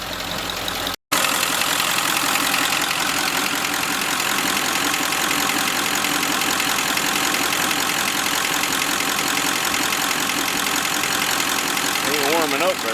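A cold 1946 Ford engine idles steadily with a loud, continuous mechanical rumble that cuts out for a moment near the start, then resumes unchanged to the end.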